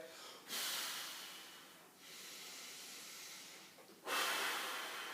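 Controlled breathing driven by the diaphragm, heard as three long, airy breaths close to the mic, each one a steady hiss with short pauses between them.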